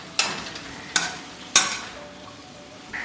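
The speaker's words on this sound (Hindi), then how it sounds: "जो हमने बीन्स काटी है वो डालेंगे, ग्रीन बीन्स। और ये मैंने डाल दिया और इसको मिक्स कर देना है।" Green beans stirred in a frying pan for Thai basil chicken, with three sharp scraping strokes about half a second apart, a faint sizzle, and a quiet pause before a fourth stroke starts.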